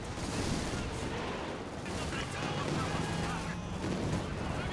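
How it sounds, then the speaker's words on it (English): Artillery fire in Company of Heroes 2, heard as a dense, continuous roar of distant shelling and battle noise that holds steady throughout the clip. "Lots and lots of artillery."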